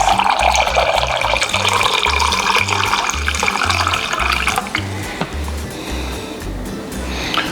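Tap water runs steadily into a cooking pot at a market food stall while chilaquiles are prepared, a continuous loud rushing pour with street noise around it, easing slightly toward the end.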